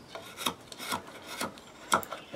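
Twca Cam hook knife carving through a knot in wood, a soft rasping scrape repeated in about five light strokes, close and fairly quiet with no talking.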